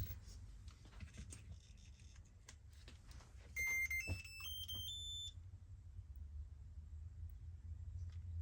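An ISDT ESC70 ESC for an RC crawler emits a short run of rising electronic beeps in a quiet room, preceded by faint ticking and a low background rumble.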